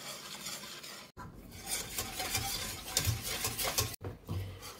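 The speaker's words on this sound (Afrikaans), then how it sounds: "dan gaan ek dit op die plaat sit en aanhoudend roer tot dit kook" Custard sauce is stirred steadily in a pot on the stove, with a spoon scraping and knocking against the metal in an uneven rhythm. The sound is close and moderately quiet, with brief pauses and no talking.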